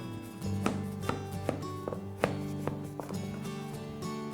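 A knife cuts through a tray of baklava pastry, producing a series of crisp, irregular taps and crunches close by, spaced roughly every half second, with no talking.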